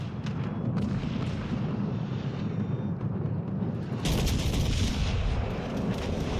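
Explosions and gunfire from a World of Warships Legends naval battle as a battleship is sunk by torpedoes, a dense continuous roar of booming blasts that swells louder and harsher partway through, with no speech.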